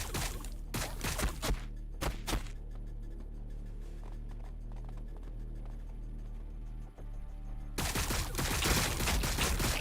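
Sporadic bursts of battlefield gunfire crack and thump in Warhammer 40,000: Battlesector. Shots cluster early and again at the end over a low, rumbling ambient bed, with no talking.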